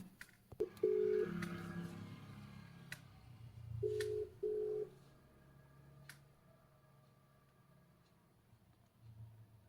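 A phone call is dialed, producing a few short electronic keypad tones in separate bursts over a quiet background with light clicks.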